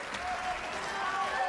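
A crowd applauding at the Barnsley Metrodome during a bowling championship, a dense sustained patter of clapping heard from a distance, with a commentator's voice over it.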